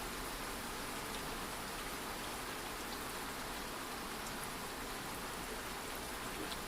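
Rain falls at midnight in an even, unbroken hiss that stays at a soft, constant level throughout, with no other sounds standing out.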